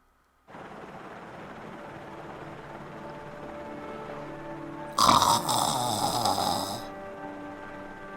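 Helicopter flying away in the Resident Evil REmake video game: a steady droning rotor hum that swells with a louder, harsher burst partway through before settling back, with no talking.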